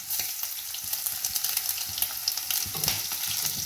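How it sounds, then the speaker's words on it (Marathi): Mustard seeds, cumin and crushed garlic sizzle steadily in hot oil for a Marathi wild-vegetable bhaji tempering, a close, dense crackle with scattered sharp pops from the seeds, continuous and alone. "गरम तेलामध्ये आपण घालणार आहोत 1 चमचा राई, अर्धा चमचा जिरं, तसंच ही लसूण आहे ही मी ठेचून घेतली आहे."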